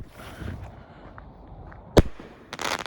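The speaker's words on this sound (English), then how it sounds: "We got Alter Ego by Alien Fireworks" Alien Fireworks Alter Ego consumer firework going off outdoors, one sharp loud report followed by a crackling burst, with faint hissing before it.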